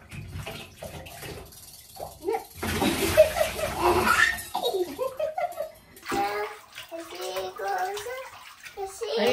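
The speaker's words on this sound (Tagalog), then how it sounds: "Pour water into your head" Water is poured over a child's head during a bath, a brief close splashing gush in the middle, surrounded by an adult and someone talking.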